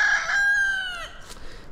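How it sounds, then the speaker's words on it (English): A rooster crows at a homestead chicken coop, one long close call with a strong drawn-out middle note that falls away at the end, heard alone with no talk. "There's the chicken coop."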